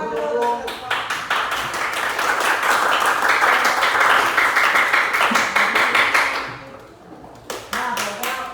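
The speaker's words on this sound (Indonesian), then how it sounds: "tepuk tangan dulu." Students in a classroom clap their hands, starting with a few sharp individual claps, swelling into a dense round of applause, then tapering to scattered claps with brief voices near the end.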